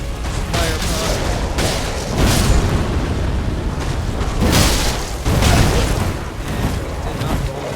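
Booming fire pot blasts and crackling flames in Elden Ring combat, several loud bursts with rumbling low end, layered over continuous battle noise close up.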